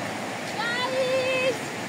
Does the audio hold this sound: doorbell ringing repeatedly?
no